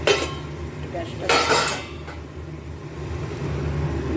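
Metal clinks and scraping of a pot being handled and covered with a lid while prawn kalia cooks, a brief cluster of clattering in the middle over a low steady background hum.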